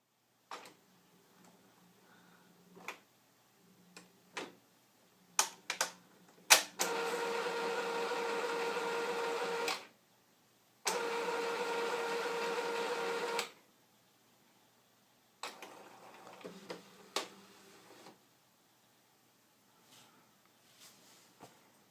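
An Epson inkjet printer runs its ink priming cycle: scattered clicks and ticks, then two steady whirring mechanical runs of a few seconds each, followed by more intermittent clicking and quiet gaps.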